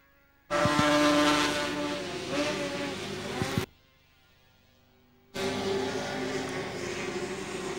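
Formula 500 race cars racing at Carina Speedway, loud engines roaring past in two long bursts with a brief lull between, a commentator talking over them.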